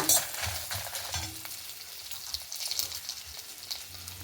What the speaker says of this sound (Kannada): 1 ಟೀ ಸ್ಪೂನ್ ಉದ್ದಿನಬೇಳೆ, 1 ಟೀ ಸ್ಪೂನ್ ಕಡಲೆಬೇಳೆ, 1 ಟೀ ಸ್ಪೂನ್ ಜೀರಿಗೆ. ಇದನ್ನು ಸರಿ ಹುರ್ಕೊಂಬ